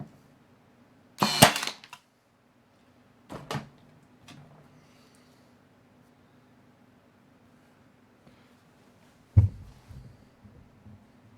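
A Ridgid Hyperdrive 18-gauge 18-volt cordless brad nailer fires a few sharp, loud snaps spaced seconds apart, each followed by a brief mechanical rattle, with near silence in between.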